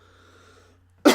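A single loud, close cough bursts out near the end after a stretch of faint low hum, cutting in sharply and trailing off quickly.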